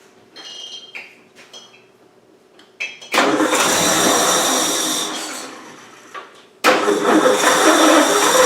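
A small engine is cranked with the choke on after its air filter has been taken off. A few short clicks and a brief attempt come first, then it catches and roars loudly for about three seconds, dies, and restarts strongly.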